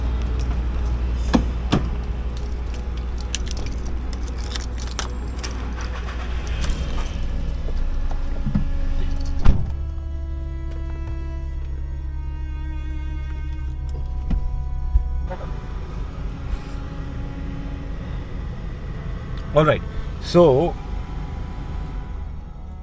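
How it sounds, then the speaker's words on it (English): A Volkswagen Polo TSI petrol engine starts after a battery replacement. A steady low running hum follows with clicks and clunks around it and a brief spoken phrase, then the engine settles to a quieter idle with a few sharp knocks near the end. "the car is starting"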